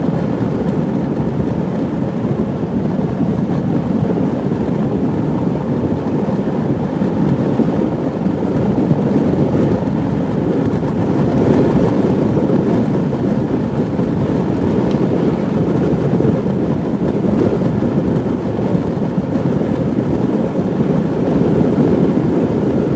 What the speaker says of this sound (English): Definitely some wind, which they said the wind was supposed to blow a little bit today.